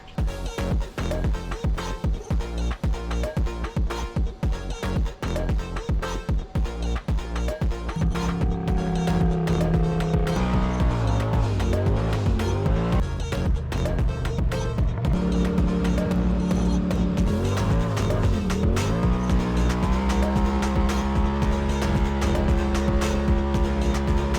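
A Polaris RZR Turbo R off-road vehicle fitted with upgraded springs drives along, its engine droning steadily and rising and falling in pitch as it revs, accompanied by continuous rattling and clattering, fairly close.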